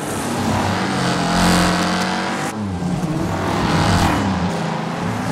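Race cars roar through a figure-8 race in the Wreckfest video game, one of them running without a hood and smoking. Loud, continuous engine drone swells and revs close by while a voice speaks briefly over it.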